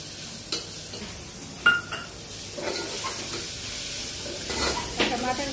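Onions sizzling in a pan as they fry for a spicy chickpea curry, a steady hiss broken by a few sharp stirring clinks and scrapes, close and moderately loud with no talking.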